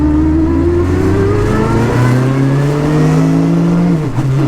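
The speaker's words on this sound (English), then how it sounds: "it's obviously a motorbike engine" A Peugeot 106 hatchback fitted with a superbike engine accelerates hard, a loud, close, smooth rising whine climbing steadily in pitch for about four seconds before easing off at the end, with no talking.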